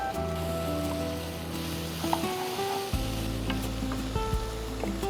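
Sliced carrot and three kinds of capsicum tipped into a hot pan and sizzling in a steady hiss, with a few clanks and stirring scrapes near the mic while a low hum runs underneath.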